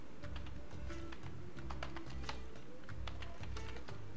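Close, quick typing on a computer keyboard: a dense run of light clicks in uneven bursts with brief pauses, fairly quiet, and no voice over it.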